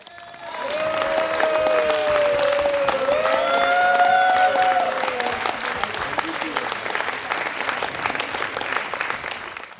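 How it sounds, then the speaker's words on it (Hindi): Audience stands and gives loud sustained applause at an awards ceremony, dense clapping swelling and then thinning, with a voice speaking over it near the start. "इनके लिए प्लीज खड़े होके एक जोरदार तालियां।"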